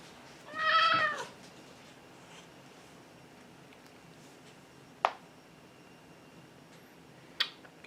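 A single short cat meow near the start, followed by quiet room tone and two brief clicks.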